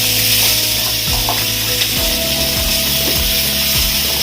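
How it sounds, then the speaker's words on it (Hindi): Cashews fry in a pan with garlic, ginger and masala, giving a loud, steady sizzle and occasional stirring scrapes over a continuous tonal hum. "मसला टिके फ्राई हो गला परे आमे काजू को पकेइबा।"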